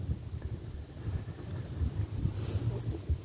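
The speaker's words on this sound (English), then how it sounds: "kind of windy now" Gusty wind buffets a phone microphone in low rumbling bursts, a rough uneven roar with no speech.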